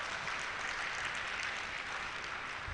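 Applause fills an inaugural lecture hall, a steady, soft wash of many hands clapping at a distance with no distinct voices on top.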